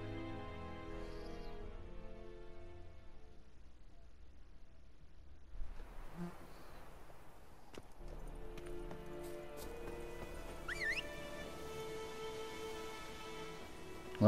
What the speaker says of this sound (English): Well, here's my horse.